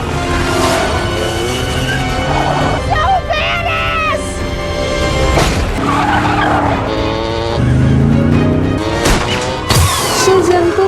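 Tires skid and squeal loudly during a film car chase, with engines roaring and a crash, layered under a dense, constant soundtrack with voices mixed in.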